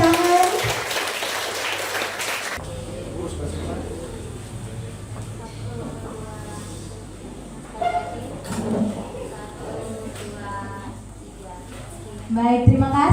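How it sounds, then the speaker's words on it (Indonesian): Brief clapping bursts at a primary school graduation ceremony at the start, then fades to a quieter room with a voice speaking over a background hum. "Kita berikan tepuk tangan."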